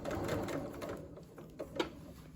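A sewing machine stitches along a tubular shirt sleeve, a steady soft mechanical whir running throughout with a couple of brief louder clicks near the end, heard alone at close range.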